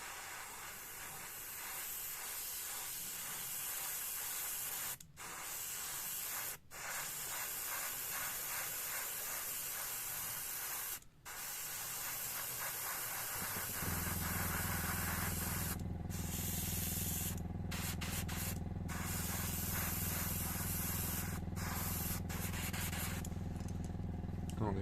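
An airbrush spraying Lifecolor Perfect Metal paint gives a continuous close hiss, with short breaks where the spray stops, then a steadier, deeper airflow rush in the second half.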